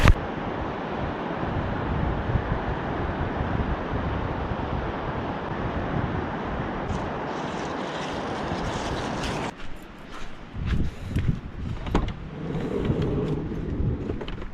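Sea waves washing onto the shore, a loud continuous surf roar mixed with wind buffeting the microphone, easing after about ten seconds into quieter wash and scattered gusts.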